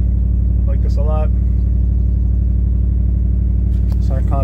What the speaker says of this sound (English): You got a rumbled exhaust, sounds great.